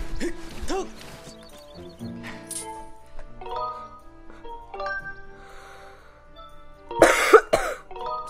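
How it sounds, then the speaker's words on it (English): Coughing from a person playing Skyward Sword HD, a short loud burst near the end over in-game music and sound effects. "Sorry for all this coughing."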